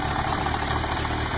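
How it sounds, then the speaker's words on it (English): A 2015 Kawasaki Ninja H2 supercharged motorcycle engine runs at a steady, loud idle with a continuous low rumble and no talking. "all you hear is the engine revving, the supercharger, and it just sounds beautiful"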